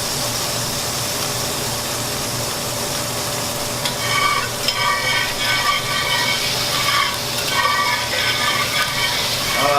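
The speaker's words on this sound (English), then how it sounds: "deglazing the bottom of the pan." White wine hitting a hot pan to deglaze it after searing scallops, starting as a faint steady hiss and swelling into a louder crackling sizzle about halfway through, with no voices.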